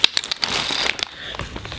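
Brass 9mm cartridge cases rattle and clink together as they are shaken in a bag with case lube, a dense close-up metallic jingle of many small pieces.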